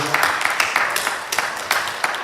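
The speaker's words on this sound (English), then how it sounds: "Come on, clap to God for chapter 1" Church congregation clapping in unison, sharp rhythmic claps landing on a steady beat for a couple of seconds, close and lively.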